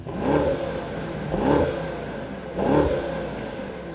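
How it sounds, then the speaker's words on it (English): A Mercedes-AMG GT 63 4-Door engine revs three times in a steady rhythm, each rise swelling and easing back to a low idle hum, close and fairly loud. "He's making a noise, isn't he? Revving his engine."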